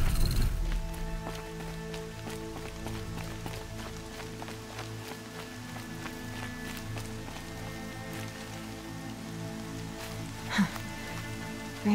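Steady rain falls in the video game Horizon Zero Dawn, a constant wash of patter with a faint tonal music bed beneath and one brief louder knock near the end.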